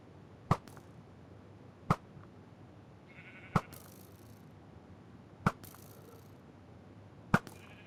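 Minecraft sheep bleats, five short sharp sounds at steady intervals of roughly two seconds, faint and isolated over a quiet background hiss.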